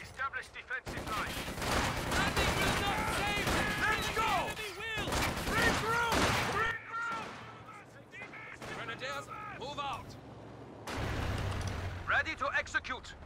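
Gunfire in a Company of Heroes 2 battle, dense volleys and rattling bursts crackling continuously under shouting soldier voices, easing briefly before picking up again.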